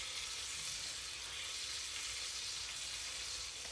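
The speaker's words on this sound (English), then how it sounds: "It does sound like I need to increase my temperature just a hair. Not sizzling as much as I would like." Deer meat frying in a pan gives a steady, even sizzle with a soft hiss that holds unbroken and moderately quiet throughout, with no talking.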